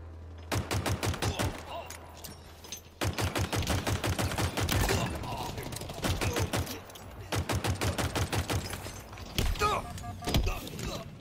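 Rapid gunfire from Halo Infinite crackles in long, fast automatic bursts with a brief pause between volleys, loud and dense throughout.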